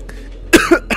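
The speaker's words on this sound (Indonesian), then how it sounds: "Sampai batuk gue." A person coughs up close, giving two or three sharp, loud bursts in quick succession in an otherwise quiet room.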